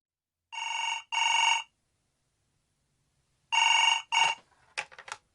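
A telephone rings in two classic double bursts, bright and close, followed by a few short clicks and rattles as it is picked up.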